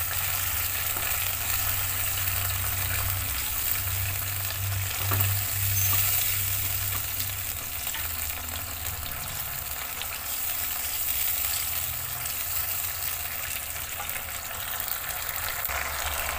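Palm sugar and water sizzle steadily in a pan as caramel forms, a continuous close frying hiss with no talk, alongside a low bubbling hum that fades partway through.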